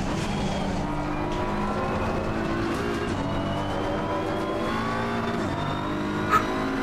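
A BMW M4 GT3 race car in a racing video game at Spa, its engine droning steadily and continuously with no voices over it.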